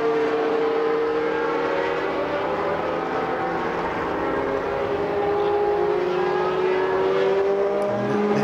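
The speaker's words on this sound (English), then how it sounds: "ragging around a Formula One Lotus in the wet on slicks" Historic Formula One cars from 1966 to 1985 racing on a wet Silverstone track, a continuous loud engine wail with rising and falling pitch as cars pass at a distance.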